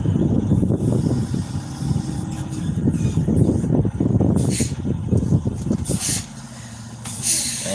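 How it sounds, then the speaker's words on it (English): A loud truck rumbles close by, its low engine noise filling the first several seconds before fading, with air-brake hisses near the end. "That truck, you're so damn loud."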